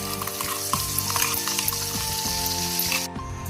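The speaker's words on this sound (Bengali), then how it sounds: "চিকেন ভাজার তেলেতেই দিয়ে দেবো যে মশলাটা করে রেখেছি" Oil sizzles steadily as a spice paste fries in a pan of oil left from frying chicken, with occasional scraping stirs and no talking.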